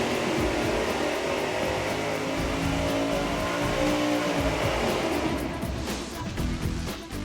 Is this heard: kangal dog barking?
no